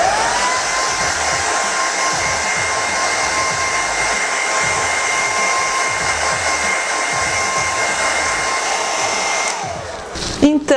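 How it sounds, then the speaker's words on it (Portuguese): A hair dryer blows in a constant loud whoosh at close range while drying freshly applied acrylic paint, then switches off near the end. "vocês acelerem com o soprador térmico ou com o secador de cabelo"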